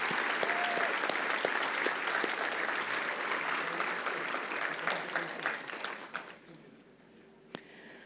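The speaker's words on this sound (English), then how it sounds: "Let's applaud our PGCE Foundation Phase graduates." Sustained audience applause at an institute's autumn graduation ceremony for PGCE Foundation Phase graduates, a dense steady roar of clapping from a large crowd that thins and fades out near the end, leaving a few scattered claps.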